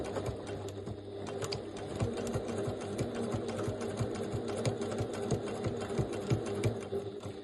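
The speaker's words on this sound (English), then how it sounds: "I'll back stitch here as well" A sewing machine stitches a seam on a simple purse. The steady, rapid needle clatter runs close and continuous for several seconds, with no voices over it.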